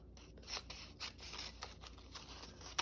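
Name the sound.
scissors cutting paper in half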